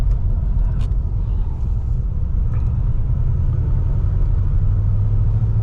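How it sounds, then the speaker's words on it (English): A 1941 Cadillac Series Sixty rumbles along from inside the cabin, its engine a loud low continuous drone that shifts slightly in pitch as the car downshifts and slows under braking. "I'm even gonna downshift a little bit, come on the brakes."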